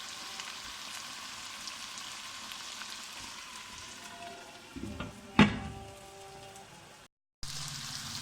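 Potatoes fry lightly in a pan with a soft steady sizzle, followed by a clatter of utensil or lid and a brief cut to silence before the sizzle resumes.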